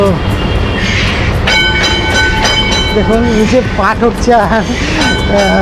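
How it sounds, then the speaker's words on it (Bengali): An old Kolkata tram runs and winds along its track with loud, rumbling wheels and high squealing tones from the rails, heard up close while someone talks over it. "সেই ট্রাম দেখুন কি সুন্দরভাবে ঘুরিয়ে ঘুরিয়ে চলে এরকমভাবে"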